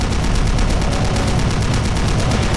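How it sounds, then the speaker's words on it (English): Turrets firing in the video game Doom, a dense, continuous rapid stream of gunfire, loud and unbroken throughout. "Yeah, turrets lighting them up."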